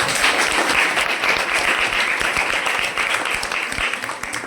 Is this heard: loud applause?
yes